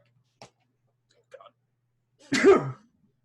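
A single sharp sneeze bursts out at close range after a couple of faint clicks, short and loud against an otherwise quiet room.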